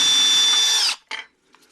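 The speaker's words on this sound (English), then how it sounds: "Alright, let's drill this." A power drill whines steadily at high speed while boring into a 25 amp relay controller box, then cuts off and gives a brief second burst, loud and close with no talk.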